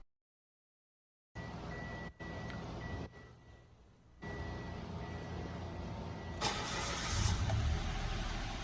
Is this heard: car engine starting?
yes